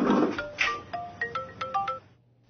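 A phone ringtone plays in a Chinese drama as a short, bright electronic melody of quick tonal notes after a brief burst of sound at the start, then fades out.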